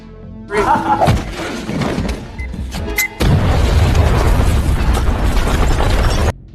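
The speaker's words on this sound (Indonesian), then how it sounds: "Karena markas ini akan meledak, dalam waktu beberapa detik lagi." A loud cinematic explosion as a base blows up in an action film, erupting after a burst of crashing and clattering, then a dense roaring blast holds for several seconds before cutting off abruptly.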